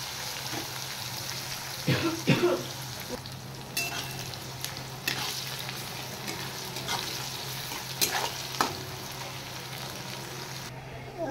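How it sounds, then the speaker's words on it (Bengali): Onions sizzle steadily in a hot pan, with a spatula scraping and clattering through them every few seconds. "এবার পেঁয়াজটা আমি একটু হালকা লাল করে ফ্রাই করে নেব।"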